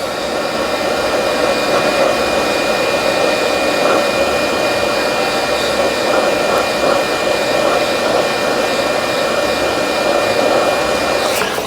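Heat gun blowing hot air onto the adhesive of an MSI GE76 laptop back cover, a steady loud close whoosh with a faint whine that runs unbroken throughout.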